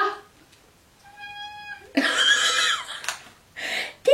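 A cat meows a few times up close, a drawn-out mew followed by several louder, raspier cries in a quiet room.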